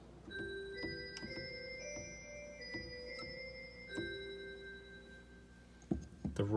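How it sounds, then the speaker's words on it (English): Chrysoglott voice from the flute celeste stop of an MDS-45 organ: a run of soft, bell-like struck tones with a gentle ticking attack, sustained notes overlapping in a slow sequence, with a brief clunk at the end. "The flute celeste becomes chrysoglot."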